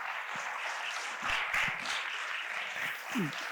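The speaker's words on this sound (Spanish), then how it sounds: "oyendo los aplausos imagino que esto está casi repleto de gente" Theater audience applauding at a book presentation, a soft, fairly distant wash of clapping that swells briefly, with a few voices under it.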